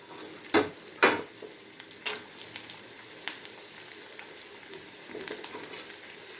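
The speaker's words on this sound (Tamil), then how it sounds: "உளுத்தம் பருப்பு ஆட் பண்ணி வதக்கி, இப்போது நம்ம கட் பண்ணி வச்சுருக்கிற கேரட் ஆட் பண்ணிக்கிறோம்" Urad dal and chopped carrot, along with dried red chillies, sizzle steadily in a pan for a Kaara chutney, with a few sharp spatula stirs and scrapes near the start over the constant frying hiss.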